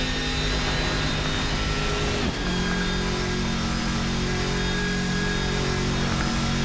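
Loud car engine revving steadily throughout, a sustained droning roar with a brief dip and a shift in pitch about a third of the way in, then holding at a higher, even tone with no talking.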